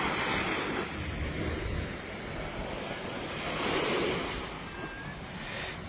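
Sea waves wash onto the shore at the foot of seaside steps near Bangsaray, Thailand, as a continuous soft surge that swells and recedes, moderately distant, with some wind rumbling on the microphone and no talking.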